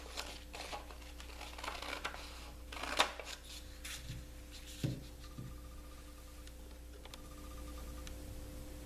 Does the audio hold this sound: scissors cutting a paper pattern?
yes